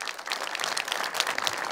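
An audience applauds film director Patrice Leconte at an event in Segré, with steady, fairly faint clapping and no voices over it.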